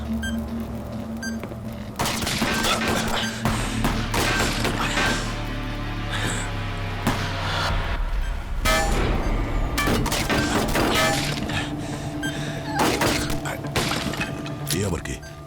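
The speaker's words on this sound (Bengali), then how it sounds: "কোথা থেকে গুলি চালাচ্ছে?" Gunshots in a CID crime drama, sharp cracks and thuds scattered irregularly across a tense scene, heard under and between people talking, with a low rumbling backdrop.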